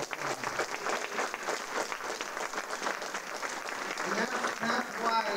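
Crowd applause at a Democratic city committee breakfast, a steady patter of many hands at moderate distance, with voices mixed in beneath.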